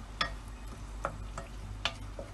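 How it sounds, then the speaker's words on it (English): Onions being stir-fried in a pot, with a spoon scraping and knocking against the sides in a few separate strokes over a soft, steady background sizzle. No one speaks. "I'm going to stir fry this until it's nicely done"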